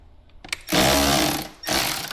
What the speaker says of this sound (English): So the first thing we need to do is loosen up this 10 millimeter bolt.